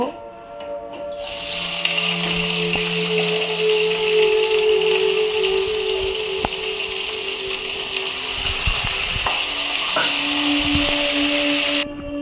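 Chopped onions fry in oil in a kadai while a pabda fish curry is being cooked, giving a loud, steady sizzling hiss that starts abruptly and runs unbroken for about eleven seconds, with no talking.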